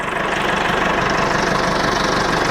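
A tractor engine idles close by with a steady, dense rumble and even mechanical vibration, continuous and loud, with no talking.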